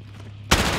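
Call of Duty: Modern Warfare gunfire, a single loud blast that cuts in abruptly after a quiet half-second and rings out briefly.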